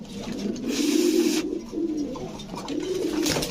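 Fancy pigeons, including Pakistani Teddy and Giribaz breeds, coo nearby in a loft in three rising, throaty bursts separated by short pauses, loud and close.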